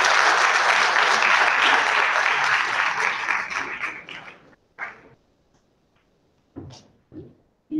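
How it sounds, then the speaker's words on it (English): An audience at a college event claps for a guest on the dais, a dense burst of applause that gradually thins and fades out, followed by a few scattered knocks and taps. "Give a big clap for her."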